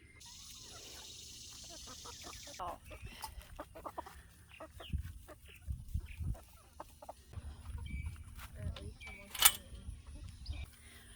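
Young backyard hens nearing egg-laying age cluck softly and intermittently nearby, a few sharper squawks standing out, while a person talks over them.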